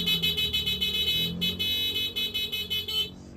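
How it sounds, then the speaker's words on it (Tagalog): Stock horn of a 2024 vehicle honks in a rapid series of short, loud bursts, close up and unaccompanied by talk, ending in a brief tail. "stock horn muna"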